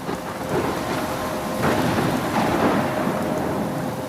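A video game thunderstorm rumbles with rolling thunder over steady heavy rain, loud and continuous with no voices.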